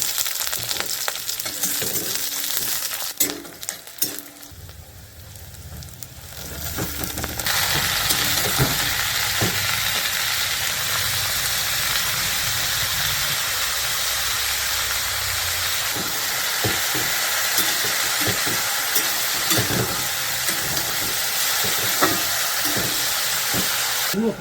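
Onions fry for a bhujiya in a home kitchen, starting with some clatter and handling, then settling into a loud, steady sizzle and hiss with scattered stirring clicks, close by and without speech.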